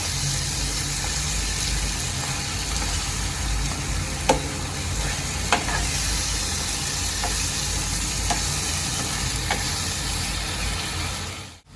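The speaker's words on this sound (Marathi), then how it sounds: "आता सर्वांना एकत्र मी करून घेईन एकदम हलक्या हाताने मी मिक्स करते" Eggplant bharit ingredients being gently stirred together in a pan with a steady sizzling hiss throughout, broken by a few soft spoon taps against the pan, no talking.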